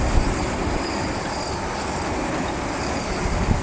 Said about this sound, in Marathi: ट्रेन आता भोके स्टेशनपर्यंत पोहोचली आहे आणि क्रॉसिंगसाठी आता इथे थांबणार आहे